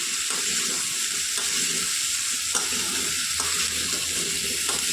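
Papaya and potato pieces fry in a hot pan with a steady, dense sizzle and hiss, broken by a few soft stirring knocks; no voices are heard.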